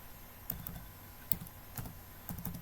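Someone types a mobile number on a computer keyboard, producing a few quiet, irregular key clicks close by in a still room with no talking.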